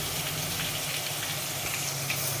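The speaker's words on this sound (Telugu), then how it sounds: "మనం ఉల్లిపాయ వెల్లుల్లిపాయ వేసుకున్నాం కదా, అది బరగ్గా అది దీంట్లో ఆయిల్లో వేసేసుకోవాలన్నమాట" Onion and garlic frying in hot oil for a Godavari-style crab curry, giving a steady, even sizzle with a dense crackling hiss and no breaks, at moderate loudness and close by.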